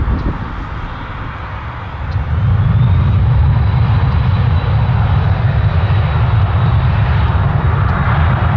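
An airliner takes off from runway 23 at Toronto Pearson, its engines swelling into a loud, sustained roar after a quieter opening and holding steady to the end.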